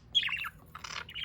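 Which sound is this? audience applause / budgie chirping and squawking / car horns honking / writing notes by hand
budgie chirping and squawking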